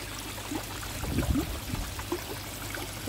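Steady water flow pours and trickles from a koi pond filter shower, a continuous close splashing wash with small gurgles, no voices.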